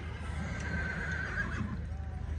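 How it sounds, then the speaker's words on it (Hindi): A horse whinnies faintly in the middle of a steady outdoor rumble on a grounds at Fortress Stadium, Lahore, crowded with horses, with low background noise throughout and no clear talking. "ये सारे ग्राउंड में घोड़े पहुंचे हुए हैं जी"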